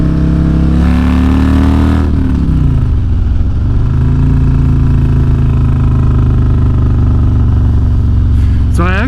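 Harley-Davidson bagger motorcycle fitted with a Stage II cam, accelerating hard in fifth gear: a loud, deep, steady engine drone with the pitch climbing throughout, heard close and alone.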